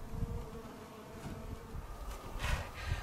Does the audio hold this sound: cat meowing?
no